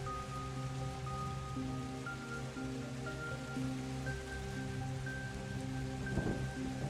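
Storm ambience of steady rain pattering on surfaces with low rumbling thunder rolling beneath, plus faint sustained tonal chiming, and a sharper crash of thunder near the end.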